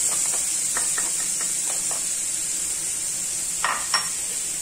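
Chopped onion going into hot oil left from searing beef for a stew, over lowered heat, gives a steady close sizzle and hiss with a few soft stirring scrapes and clinks of a utensil.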